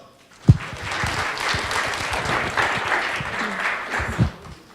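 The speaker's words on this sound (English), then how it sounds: "Let's get a round of applause." Conference audience claps for a panel on government adoption of blockchain, a sudden burst that swells into a full, steady round of applause before tapering off, with a sharp nearby clap at the start.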